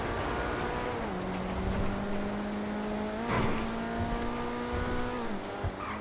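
Coquette D10 Pursuit car in GTA Online, engine droning steadily and fairly loud with pitch shifts as gears change, plus a brief tire or road burst midway.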